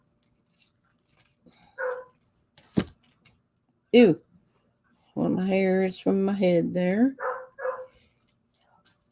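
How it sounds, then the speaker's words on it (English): A pet dog barks and howls outdoors with a sing-song, drawn-out tone, heard a short way off after a few sharp single barks, while a person speaks quietly nearby. "And my dog's out there singing."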